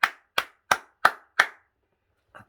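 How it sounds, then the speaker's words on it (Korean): Five sharp, evenly spaced claps from a church congregation at a dawn service ring out close by, each ending in a short decay, followed after a pause by a softer, faint rustle. "주님께 영광의 박수합시다."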